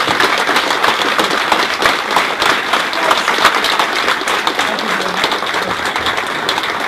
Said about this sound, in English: if you could give a round of applause to us.